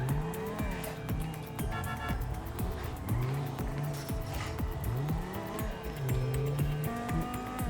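A Corvette with exposed exhaust and a turbo revs hard and shifts repeatedly in a video game, its engine rising and dropping in loud cycles while tires squeal and skid throughout.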